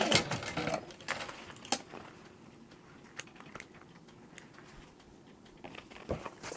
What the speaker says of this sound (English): I'm going to go through the zipper teeth forward, backwards, forward, just to stitch those down